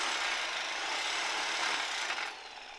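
A jetski trailer bracket being cut, giving a steady broadband rasping, shaving grind that holds evenly for nearly three seconds and eases off at the end, close and loud with no talking.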